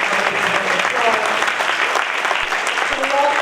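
A dense, steady round of applause from a crowd at an evening community meeting with Baltimore's acting police commissioner, filling the room evenly for several seconds without a break.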